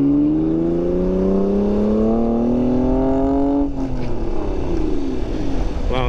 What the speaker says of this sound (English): Wow, that's a rare car. That's the 3000 GT by Mitsubishi.